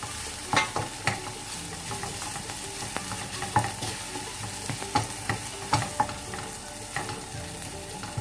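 Garlic sautés in a pan with a steady sizzle and repeated sharp clicks of stirring, loud and alone with no voices.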